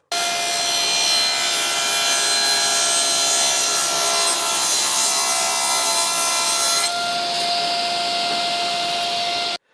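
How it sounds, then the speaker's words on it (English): Table saw slicing through the bottom of a wooden piece: a loud, steady whining cut for about seven seconds, the tone shifting as the blade finishes, then stopping abruptly with no talk. "So we'll go to the table saw and just sort of cut the bottom of that off."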